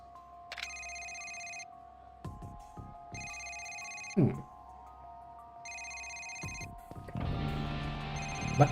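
Cell phone ringing in the Yakuza 1 video game, a repeating electronic ringtone in regular bursts, with a few knocks and a louder noisy stretch toward the end.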